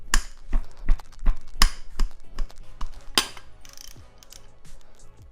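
A ratchet wrench loosens a 14 mm bolt on an Acura Integra transmission, making quick clicking bursts and sharp metallic taps up close, busy at first and thinning out toward the end, with no speech.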